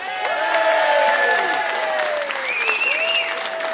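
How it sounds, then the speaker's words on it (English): Festival crowd at the Wigan Diggers Festival applauding to welcome Jimmy McGovern, loud continuous clapping with cheers and a couple of whistles rising above. "I want you to give a massive round of applause and welcome back Jimmy McGovern."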